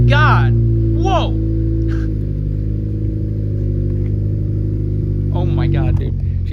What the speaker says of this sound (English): It still sounds like a good exhaust.